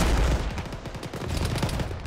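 Rapid gunfire crackles through a military shooter game firefight, with dense overlapping shots and bursts throughout, loud and close, with no talking.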